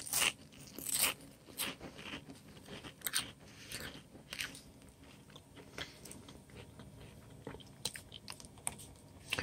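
Close-up crunching of a crisp snack being chewed, with sharp bites and steady munching, no talking.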